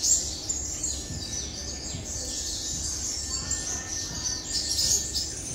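A sunbird singing, thin high chirps and twittering notes rising above a steady background hum and murmur, fairly faint and intermittent across a few seconds.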